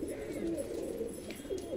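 Pigeons released outdoors give soft, continuous cooing, steady and close.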